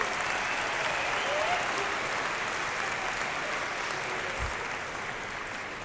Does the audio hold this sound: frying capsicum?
no